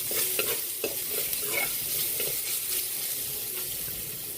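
Garlic and ginger fry in a pan, giving a constant close sizzle broken by a few scraping stirs and light clinks, with no talking.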